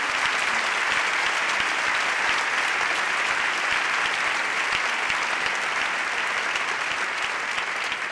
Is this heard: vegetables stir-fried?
no